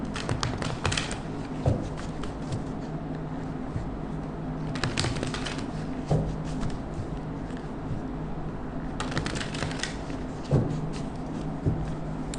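Tarot cards being shuffled: soft, continuous papery riffling and light taps in three bursts, quiet and close, with no talking.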